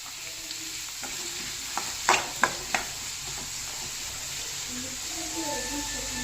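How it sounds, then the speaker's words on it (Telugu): Salted onions fry in a pan, with a constant hiss of sizzling while a spoon stirs in a few sharp scrapes and knocks, and a voice speaks faintly near the end. "ఉల్లిపాయలు చాలా ఫాస్ట్గా వేగిపోతాయి."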